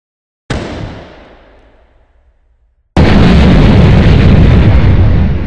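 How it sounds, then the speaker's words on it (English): Large explosion from the Oklahoma City federal building bombing: a sudden heavy blast that rumbles and fades over about two seconds, then a second, louder, sustained roar of noise breaks in and stays strong. "downtown Oklahoma City was rocked by a large explosion that destroyed the Murrah Federal Building"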